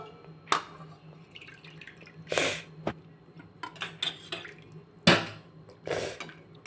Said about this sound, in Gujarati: હવે આપણે પાણી એડ કરશું બે કપ જેટલું